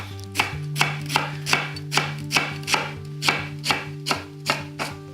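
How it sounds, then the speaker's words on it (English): A kitchen knife chops a fennel bulb into small dice on a board, making about a dozen steady, close, crisp strikes at an even rhythm, with no talking. "What we want to do is just get this into, like, small dice, like so."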